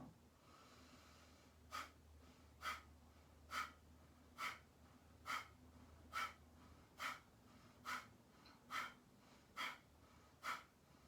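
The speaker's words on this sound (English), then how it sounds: "Inhale, a nice full inhalation through the nose and an abrupt exhalation out the nose." Kapalabhati-style pranayama breathing: a steady series of about eleven short, forceful nasal exhales, each a sharp snort-like puff, evenly spaced roughly a second apart and heard close and quiet, with no talking.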